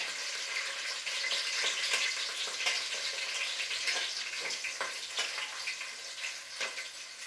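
Green chilies and onion frying in oil give a dense, steady hissing sizzle throughout, with faint stirring ticks scattered across it, near and even, no voices.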